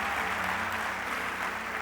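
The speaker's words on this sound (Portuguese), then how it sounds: "pode dar uma salva de palmas os dois" A church congregation applauds in a dense, steady wash of clapping that holds at an even level throughout the short moment.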